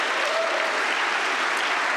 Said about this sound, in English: huge round of applause to all the speakers today.